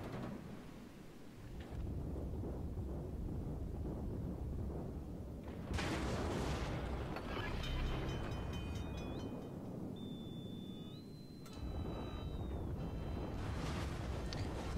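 Battleship main guns firing a salvo of shells in World of Warships, a sustained, heavy, rumbling boom with rolling thunder-like blasts that swell and settle over several seconds.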